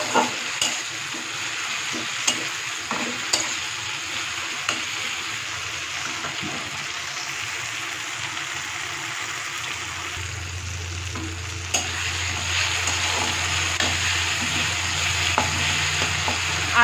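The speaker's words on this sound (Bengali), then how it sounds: "দিয়ে আবারও আমি ভালো করে একটু নেড়ে নিচ্ছি।" Ground ginger fries in a pan as a spatula scrapes and stirs it, with repeated sharp scraping strokes over a constant sizzle and a low steady hum joining partway through.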